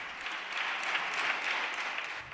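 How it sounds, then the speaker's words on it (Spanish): Members of the PSOE and Podemos government groups in the Spanish Congress give the Interior Minister an ovation. Their clapping forms a steady, fairly faint, distant wash with no distinct individual claps. "Ovación de los grupos del Gobierno, PSOE y Podemos, al ministro de Interior."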